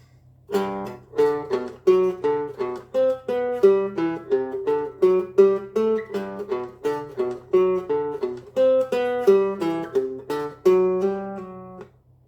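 A guitar plays a slow, steady run of single plucked notes, each ringing clearly and evenly spaced, with no talking.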